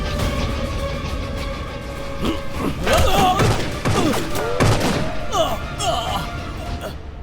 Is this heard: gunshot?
yes